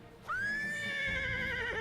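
A horse in the video game Eternal Sonata gives one long, loud whinny, rising and then wavering as it holds, with no voices over it.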